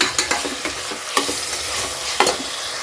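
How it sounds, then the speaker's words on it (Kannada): Thick slices of farm tomato fry in a pan for paneer biryani, a constant close sizzle broken by several sharp spoon scrapes and stirs, with no voices. "ಉದ್ದ ಉದ್ದ ಸ್ಲೈಸ್ ಕಟ್ ಮಾಡಿದ್ದೀನಿ ಅದು ಫ್ರೈ ಆಗಿಬಿಡುತ್ತೆ ಬೇಗನೆ ಫ್ರೈ ಆಗುತ್ತೆ"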